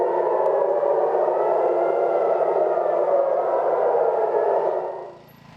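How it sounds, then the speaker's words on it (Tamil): A loud, sustained air raid siren wail during an Iranian missile attack on Israel holds steady with slowly shifting pitch, then fades away near the end. "ஏவுகணை தாக்குதலை ஒட்டி சைரன்கள் அலறியதை தொடர்ந்து"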